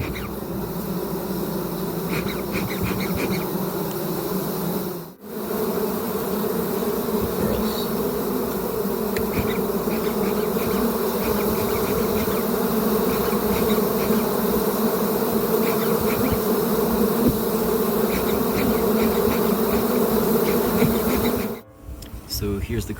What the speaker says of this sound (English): you just saw some bees fly out